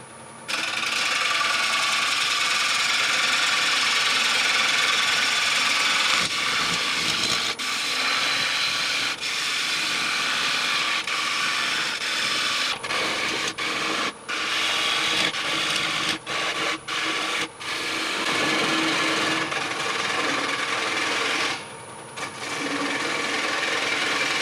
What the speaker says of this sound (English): And now I'm going to be using, for a change, a half inch bowl gouge.